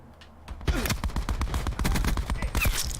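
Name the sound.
gunshots in Call of Duty video game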